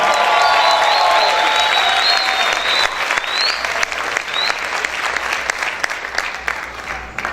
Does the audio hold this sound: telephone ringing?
no